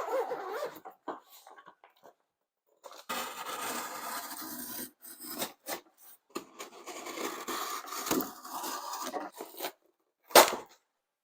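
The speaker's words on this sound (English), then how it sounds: "I'm using this big old white box here, and I'm going to cut out the bottom." A blade saws and rasps through a big white cardboard box to cut the bottom out, in close, scratchy strokes with short pauses, ending in a sharp tear or snap.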